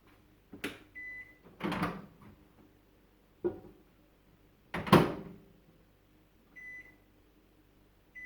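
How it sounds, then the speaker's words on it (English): Microwave door thumps and clicks, short beeps sound twice, and a faint hum runs underneath in an otherwise quiet kitchen as beeswax is melted on the defrost setting for a salve. "So so now we're going to heat it up in the microwave."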